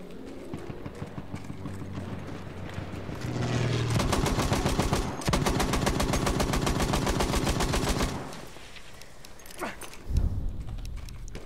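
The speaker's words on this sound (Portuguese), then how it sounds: "eu ouvi um cavalo, mas falei, ah, ele deve estar vindo pela frente" Galloping horse hooves amid gunfire on a Battlefield 1 battlefield, rapid dense rhythmic impacts swelling loud in the middle section, mixed with shots and battle noise.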